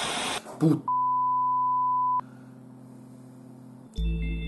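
A steady electronic beep tone sounds for over a second following a brief burst of talk, then cuts out as low background noise and a fainter tone take over.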